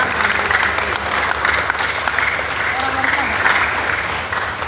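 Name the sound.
applause for Tegal Regency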